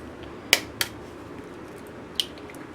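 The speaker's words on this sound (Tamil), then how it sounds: "ஸோ இப்போ 2 எக்கு உடச்சி ஊற்றிட்டேன்" Two eggs cracked into parotta dough made with salt and a spoon of sugar, heard as a few sharp, close cracking taps spaced apart over quiet room noise.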